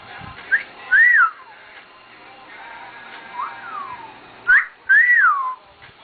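Short whistled tones, billed as dog whistles, come in pairs that rise and then fall, with a softer gliding tone between them, close and fairly loud against a quiet background, with no talking.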